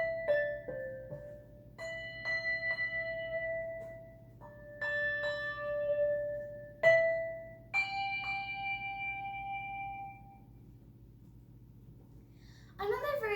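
A handbell held up and struck from the side with a suspended mallet rings out in a series of clear, separate strikes, each tone sustaining and slowly decaying, with several pitches heard in turn against a quiet background.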